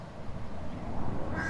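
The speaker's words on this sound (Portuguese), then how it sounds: "Mais um, não para de sair patinhos." Ducklings quack softly by a pond in Portugal, a faint scatter of small calls over quiet outdoor ambience.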